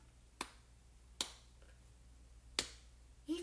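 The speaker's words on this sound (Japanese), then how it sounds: "指パッチンはいけます。" Finger snaps, three crisp isolated clicks spaced unevenly in a quiet room, close and clear with a faint hum beneath.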